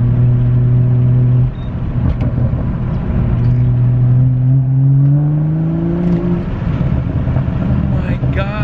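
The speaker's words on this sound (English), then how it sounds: "I gave it like not even a quarter throttle and it felt like I was flooring it from before." A BMW F30 335i with a Bootmod3 stage 2 tune accelerates, its engine drone climbing steadily in pitch as revs build. The sound is loud and close, heard from inside the car.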